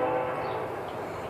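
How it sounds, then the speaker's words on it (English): A new, loud train air horn blowing one sustained, steady blast close by, with no other sound around it. "that damn train's horn is loud"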